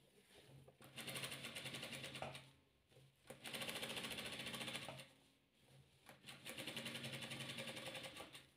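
A sewing machine stitches a round fabric piece for a decorative hair bow, running in three steady bursts of rapid, even mechanical chatter separated by short pauses, fairly quiet and close.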